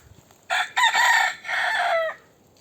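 A Sultan rooster crows loudly nearby, one long drawn-out call broken into strained segments, against a quiet background.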